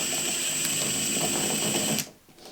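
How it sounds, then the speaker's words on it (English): A cordless impact driver whirs and rattles as it winds a screw up into a ceiling batten. The close mechanical buzz runs for about two seconds, then cuts out abruptly. "now just slowly, if you can get in there, wind the screw somewhere into that batten"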